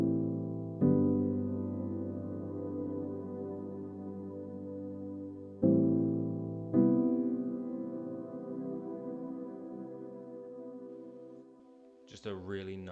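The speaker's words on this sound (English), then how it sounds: "Just a really nice, warm, lush piano sound" Warm, lush lo-fi piano chords programmed in FL Studio, with the thirds raised an octave. Mellow chords are held and restruck at irregular points, each decaying slowly, and a brief bright wobbling sound ends the passage.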